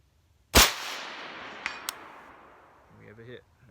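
An Mk12 rifle fires once at a steel target 300 yards away. A sharp, loud crack is followed by a long fading echo, and two faint metallic pings come back from the distant steel a second later.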